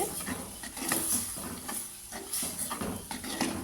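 A spoon stirring coconut milk through a thick pasta sauce in a pan, soft scraping strokes repeating steadily at close range over a faint low sizzle, with no talking.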